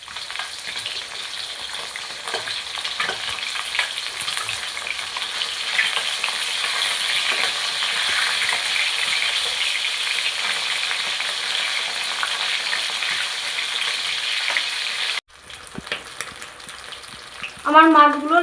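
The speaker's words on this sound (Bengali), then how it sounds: "আমার মাছগুলো লাল লাল করে ভাজা হয়ে গিয়েছে।" Rohu fish pieces frying in hot oil in a village-style kitchen, a steady close crackling sizzle that runs without break for about fifteen seconds before cutting off abruptly, followed by a short, quieter stretch of clatter.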